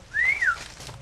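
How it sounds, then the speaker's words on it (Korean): A single clear human whistle, rising then gliding down, loud and close against faint background noise, used as a signal between workers in a banana plantation. "미로와 같은 농장에서 휘파람은 이들끼리 주고받는 신호다."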